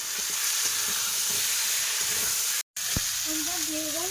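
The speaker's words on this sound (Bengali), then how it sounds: "এই যে ভাজা হচ্ছে, আর এদিকে আলুটাও কিন্তু কষা হচ্ছে।" Food frying in a pan alongside potatoes being sautéed down, a steady broadband sizzle that runs throughout, broken by a brief dropout and followed by a few scraping stirs near the end.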